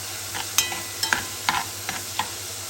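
Tomato sauce going into onions and garlic frying in a pan for Egyptian koshari, with a steady sizzle broken by several sharp stirring scrapes spaced about half a second apart, close and moderately loud, no talking.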